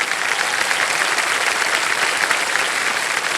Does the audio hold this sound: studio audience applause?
yes